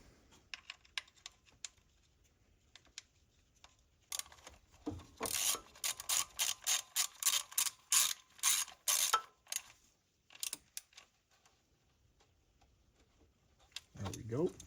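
A screw on the plastic thermostat housing of a 2013-2014 Mercedes C300 3.5L M276 is driven in with a ratchet, giving a close run of rapid clicking bursts, with a few quieter clicks before and after.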